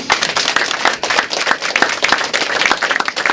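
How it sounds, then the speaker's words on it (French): Audience applauding at a pottery gathering in Bouffioulx, loud dense clapping with sharp individual claps, steady and close, with little talk. "Je pense qu'on peut l'applaudir très très fort."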